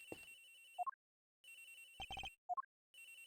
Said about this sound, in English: Sounds like a cell phone.